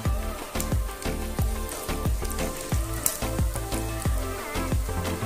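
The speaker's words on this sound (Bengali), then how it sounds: "ফোড়নের জন্য দিয়ে দিচ্ছি আস্ত জিরে।" Whole cumin seeds sizzle in hot mustard oil for tempering. A steady crackle is close by, broken by repeated rhythmic soft thuds, and no one speaks.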